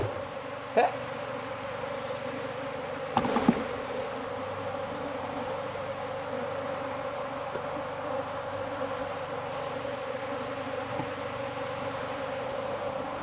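A steady, dense hum of honey bees buzzing after being shaken up during a Varroa mite test fills the whole stretch, with a couple of brief louder knocks near the start.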